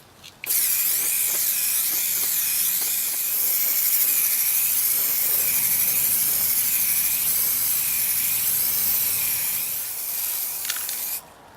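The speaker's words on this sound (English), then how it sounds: "so I'm ready to start spraying" Steady, continuous hiss of a PlastiKote aerosol spray paint can coating metal garden furniture, loud and close, running unbroken for about eleven seconds with slight wavering before cutting off.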